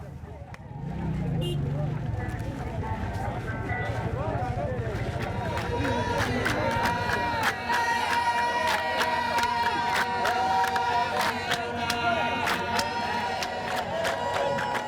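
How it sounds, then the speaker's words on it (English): Dense festival crowd at an African celebration, a continuous loud roar of many voices with cheering and shouts over drums and music, steady throughout. "Within an hour, the crowds return and the festivities continue."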